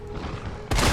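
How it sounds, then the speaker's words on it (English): A shotgun blast in the survival horror game Resident Evil 3 (2020), one sudden loud boom cutting in abruptly at the end after a stretch of murky background noise. "shotgun works better against them than Carlos' assault rifle, which makes sense"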